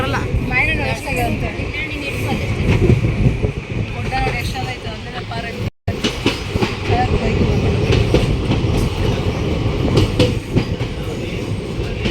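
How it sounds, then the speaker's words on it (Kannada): A train rumbles steadily along the rails, heard on board during a daytime journey, with rhythmic clacking and wind noise throughout, voices talking over it and a brief dropout midway. "ಡೇ ಟೈಮಲ್ಲಿ ಟ್ರೈನ್ ಜರ್ನಿ ಮಾಡಿದ್ದು ಇದೇ ಫಸ್ಟ್ ಸತಿ ನೋಡ್ರಿ"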